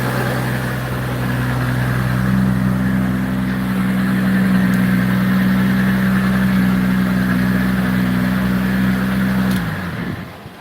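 A 2,000 horsepower car engine idles steadily and loudly with a deep, even drone, holding constant for about nine seconds before abruptly cutting off near the end.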